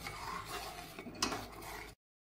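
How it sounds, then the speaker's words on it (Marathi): A spoon stirs cardamom powder through thick milk rabdi in a pot, giving soft scraping swirls and one sharp clink against the metal before everything cuts to silence. "आता शेवटी यामध्ये टाकूयात वेलची पावडर आणि हे मिक्स करून घेऊया"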